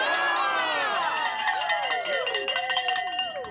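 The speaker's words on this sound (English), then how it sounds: "we're going to cheer them on, and on the count of 3, we're going to give them a Big Texan yee-haw" Crowd at a Big Texan 72 oz steak eating contest in Pasadena shouting a loud yee-haw, with whoops and yells sweeping up and down over scattered cheering that gradually loosens and fades.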